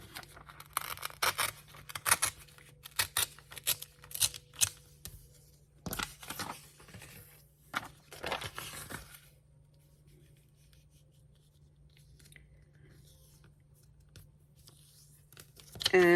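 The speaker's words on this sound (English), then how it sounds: "So I am just going to tear this." Paper junk mail is torn by hand in a close series of quick ripping and rustling bursts that thin out into quiet, with a low steady hum underneath.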